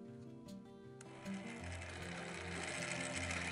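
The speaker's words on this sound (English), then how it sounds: "let's take a look and see the TARDIS console in action" A battery-powered Doctor Who TARDIS console toy from the Dapol 25th Anniversary set runs with a continuous whirring, ratcheting gear mechanism, close and fairly quiet.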